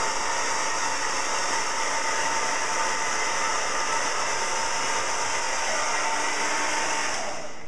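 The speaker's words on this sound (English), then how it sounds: "taking your blow dryer and blow drying it" A handheld blow dryer runs continuously while drying a section of hair over a round brush, a loud, steady airy whir with a constant high whine and no break throughout.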